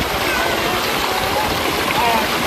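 Cold tubewell water splashes and rushes as children bathe at a village well, a dense, close wash of water noise throughout with a voice speaking over it.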